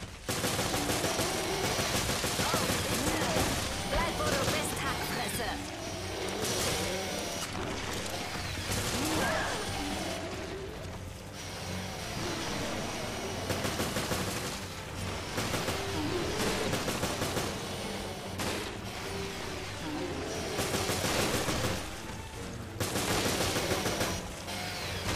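Gunfire in the PS4 video game Resident Evil Revelations, a dense, steady barrage of loud shots and bursts that runs without a break over a constant rumbling game backdrop.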